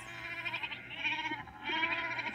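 Baby goat bleats sound throughout, a steady wavering cry rising and falling in strength, fairly close, with no voices present.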